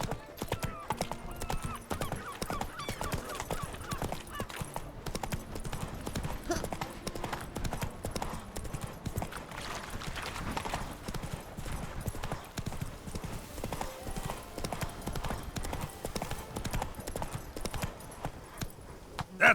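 Roach, a horse in The Witcher 3: Blood and Wine, gallops with rapid, rhythmic clip-clop hoofbeats that run steadily throughout, with occasional game sounds mixed in.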